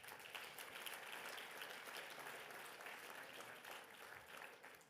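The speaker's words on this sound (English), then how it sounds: "Please give him a round of applause." Steady applause from an awards ceremony audience, a dense wash of clapping that holds at an even level throughout.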